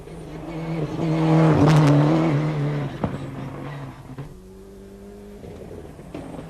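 Four-wheel-drive rally cars at the 1995 Donegal rally, engines roaring close by as one car revs hard and passes, then another engine drones lower in the distance.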